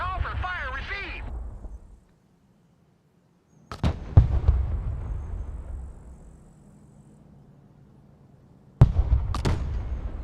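Mortar fire in the video game Broken Arrow: a few sharp, loud booms with rumbling tails, separated by quiet gaps, following a short burst of radio-style talk at the start.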